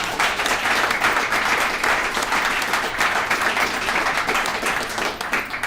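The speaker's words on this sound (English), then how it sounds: "Another round of applause, guys." Another round of applause from attendees at a recovery services alumni meeting, dense sustained clapping filling the room at close range, steady and loud with no talking, easing off slightly at the very end.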